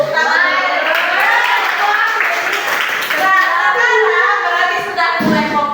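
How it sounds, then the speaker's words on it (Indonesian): A classroom of students claps together in a loud, dense patter that carries on steadily, mixed with children's voices throughout. "Tepuk tangan."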